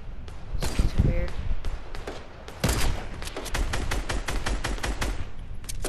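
Rapid bursts of video game gunfire crackle repeatedly through a squad match, with dense volleys of shots that stay fairly loud throughout, mixed with background game sounds.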